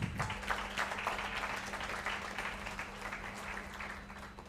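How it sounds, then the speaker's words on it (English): A crowd applauds steadily, a dense, continuous patter of many hands clapping with a faint low hum underneath, no voices. "Let's give him a big round of applause."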